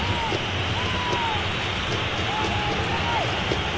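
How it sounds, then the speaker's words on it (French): Rain hisses steadily over a football match between FC Barcelona and Paris SG in the FIFA 16 video game, a constant wash of noise under faint whistle-like calls and soft crowd sound. "Ah, comme vous pouvez voir la pluie."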